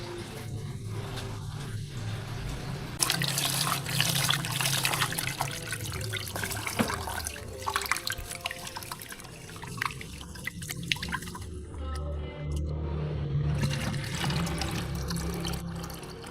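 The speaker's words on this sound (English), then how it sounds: "This is a water purifier." Water runs through an old but working household water purifier, a continuous splashing trickle with scattered drips, moderately close and steady throughout, with no voices.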